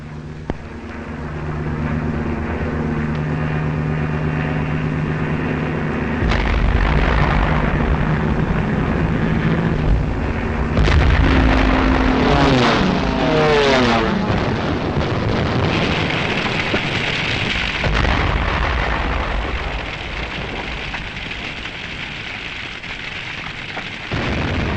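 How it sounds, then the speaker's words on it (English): Archival wartime footage of the aerial bombing of Rotterdam, with aircraft drone and rumbling explosions building into a loud, continuous roar and crackle that surges midway and stays heavy throughout. "This was Rotterdam, bombed after the Dutch forces had surrendered."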